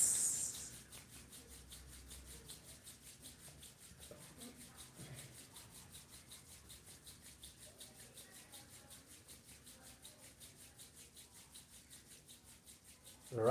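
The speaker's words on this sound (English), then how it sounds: "Slowly rub your palms." Two palms rub together slowly, giving a soft, faint back-and-forth friction in a steady rhythm within a quiet room.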